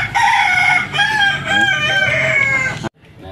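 A rooster crows loudly and close by near a chicken coop in a garden setting, a long drawn-out call with hen clucks mixed in, ending abruptly in near silence.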